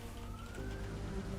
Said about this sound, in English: All I hear are just sirens.